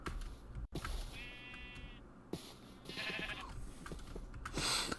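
Sheep in the blocky creature-catching game Cobblemon bleat in a few short, clear calls, one sustained wavering bleat followed by shorter ones, moderately close against quiet background ambience.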